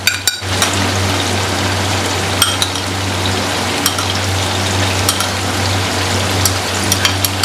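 Green chilies and ginger go into a pot of Pakistani beef stew, frying with a steady loud sizzle throughout and scattered clinks of a spoon stirring against the pot.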